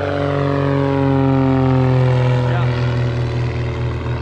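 A small airplane's propeller engine drones loud and close during the takeoff roll on a snowy runway. The pitch shifts slightly as it steadily gains speed.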